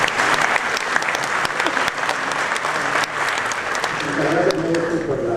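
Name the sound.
audience applause at an award ceremony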